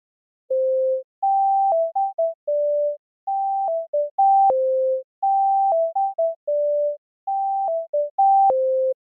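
A MIDI melody played back through an Unreal Engine 5 Metasound: clean synth-like tones in a repeating phrase of short and held notes, steady and clear with no other sound.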